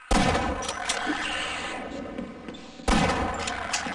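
Bursts of rapid gunfire from a weapon in the Half-Life video game, loud and close: a sustained volley that thins out, then a second burst starting near the end.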